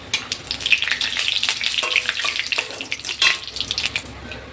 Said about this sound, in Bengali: ফোড়নটাকে এবার ভালো করে ভেজে নেব।